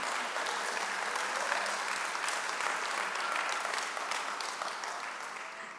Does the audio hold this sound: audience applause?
yes